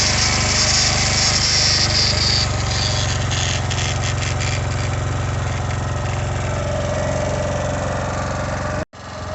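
A Smart SM-01-2000INV 2.0 kW petrol inverter generator runs with a steady, loud, close engine drone and a high whine. It holds even throughout and cuts out sharply near the end, with no voices.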